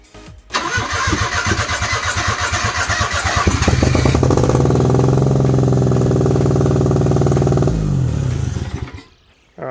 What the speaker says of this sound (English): So whether or not it will start is a different question.